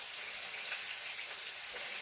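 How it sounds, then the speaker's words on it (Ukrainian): A full frying pan of meat from three carcasses sizzles steadily, a dense, even crackle heard up close with no voices. "зараз у мене на цей повна сковорідка буде от з трьох тушок."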